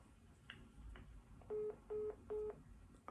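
Three steady electronic telephone tones sound after the caller hangs up on a cold call, evenly spaced and fairly loud, each lasting about a quarter second, over a faint hiss with a couple of soft clicks before them.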